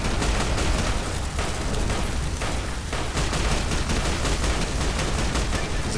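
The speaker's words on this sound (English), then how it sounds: "the first recon soldier with his heavy machine gun" Heavy machine gun fire from a recon soldier in the video game Fallout: The Frontier, a loud, dense fusillade of rapid shots that goes on the whole time, with booming impacts mixed into the racket and no pause in the shooting.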